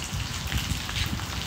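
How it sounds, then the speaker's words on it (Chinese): Steady rain falls on a surface outdoors at a rural home, a dense, even patter of drops that fills the whole moment without any talk. "我们这里下雨，昨天晚上就下雨"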